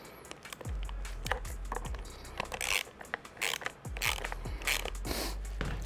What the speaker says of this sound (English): So you just come in on this side and tighten up the bolt head side.